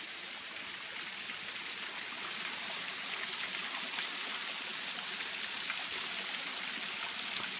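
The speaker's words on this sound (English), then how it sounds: "Pretty cool little mossy kind of cascade actually over there, really." A steady, gentle rush of trickling water from a small mossy cascade in Tasmania, continuous and moderately distant, with no voices.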